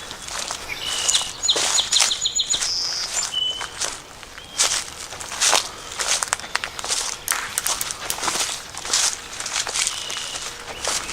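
Sharp, repeated chirps and calls of a red-winged blackbird scolding from above, overlapping footsteps crunching along a path beside a canal, fairly close and lively throughout.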